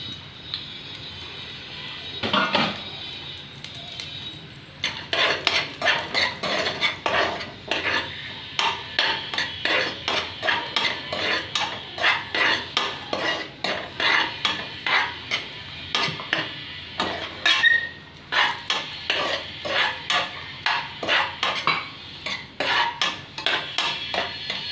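Cashews, raisins and coconut roast in melted ghee for a millet payasam while a spoon stirs them in the pan, making brisk, rhythmic scraping clinks that repeat steadily, close and fairly loud.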